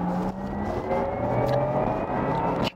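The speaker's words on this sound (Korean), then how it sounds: "이 사운드, 배기 사운드를 음향으로 만들어진 소리로 들려주고 있습니다" Synthetic exhaust sound from a Porsche Taycan Turbo Cross Turismo electric car, modelled on a racing machine, swells steadily under hard acceleration and kickdown, a loud continuous rising tone alone without speech.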